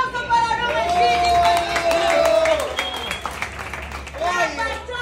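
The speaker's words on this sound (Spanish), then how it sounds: "Fuerte los aplausos para Rubén Chini!" A crowd applauds with dense, steady clapping while a loud voice carries over it and people chatter in the background.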